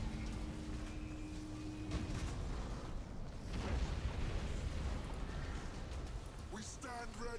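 Bombs explode in Battlefleet Gothic Armada 2, a space-fleet battle: deep booming blasts and crackling bursts rumble continuously over a dense combat din, with faint voices near the end.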